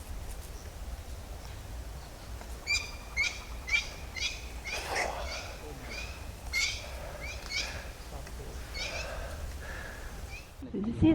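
Brown-necked parrots in the wild in The Gambia screech harshly as a small flock bursts from a tree into flight, a rapid run of loud, rough calls from mid-distance over steady outdoor background noise.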